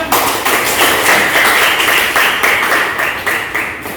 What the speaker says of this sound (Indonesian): Tepuk tangan lagi kan?